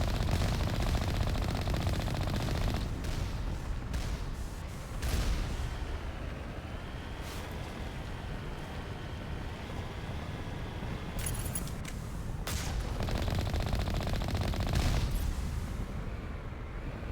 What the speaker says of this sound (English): The regenerated shield should be enough for me to take out these last 3 turrets.